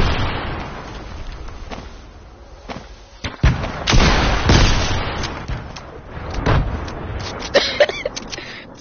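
Sustained rapid gunfire from a minigun in a video game, dense rattling bursts that swell and fade across the stretch, loud and close with no talk over it.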